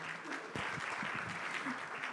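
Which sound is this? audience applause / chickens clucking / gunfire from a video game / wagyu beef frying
audience applause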